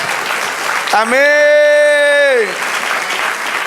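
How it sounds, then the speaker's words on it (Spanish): A church congregation applauds in praise during a worship service, steady clapping throughout while a voice sustains a long drawn-out sung amen over the middle of it. "Dar un aplauso al Señor."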